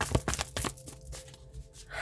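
Tarot cards being shuffled during a reading, a few quick crisp riffling bursts in the first second followed by softer faint rustles, close and alone with no talking.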